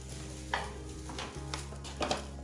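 Quince and sugar are stirred in a jam pan, giving soft scraping sweeps and a few light clinks of the spoon against the pan over a low, steady background hum.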